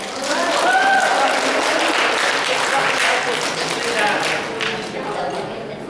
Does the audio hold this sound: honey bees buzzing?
no